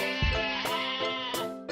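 A sheep bleats in a long, wavering, nasal cry, close and clear with a few breaks in the call, alone with no talk.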